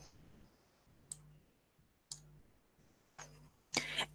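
A computer mouse clicks through a dialog in ModelMuse groundwater modeling software, four sharp, faint clicks spaced about a second apart in a quiet room, the last slightly louder, with no talking.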